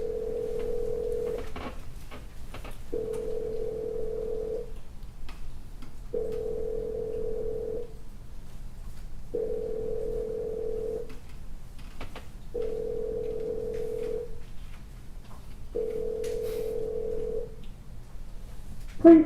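Repeating telephone ringback tone on a prepaid jail call line while the call connects: steady beeps of about 1.5 seconds each, separated by pauses of similar length, heard clearly with no talking.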